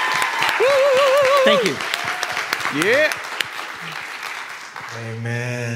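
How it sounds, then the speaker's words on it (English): Congregation applauds a church security team during a Sunday worship service, a sustained wash of clapping with cheering and a singing voice over it, then fading as organ-like chords enter. "Let's give a round of applause for them."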